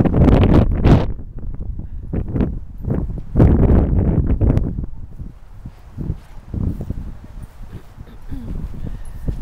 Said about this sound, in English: That wind is really rough.